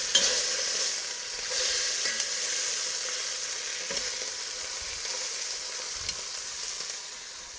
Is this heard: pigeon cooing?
no